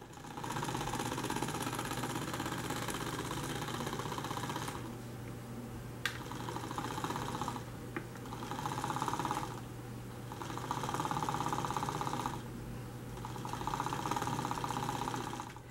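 A small electric motor in a remote-controlled toy helicopter whirs steadily, its pitch and intensity rising and dipping in several surges over about fifteen seconds.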